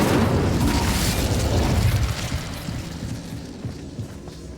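Incendio fire spell cast in Hogwarts Legacy on Nintendo Switch, a loud whooshing burst of flame that rumbles heavily for about two seconds and then fades into a softer crackling tail.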